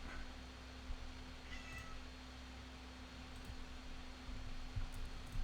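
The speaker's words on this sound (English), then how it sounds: "I have to rescue a cat." A cat meows faintly a few times in the background of a quiet indoor room, with a steady low hum underneath.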